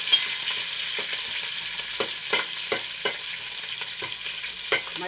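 Four green chillies sautéing in a pan for a sardine curry, a soft steady sizzle broken by light scraping strokes of a spoon at an uneven rhythm, close and fairly quiet with no voices.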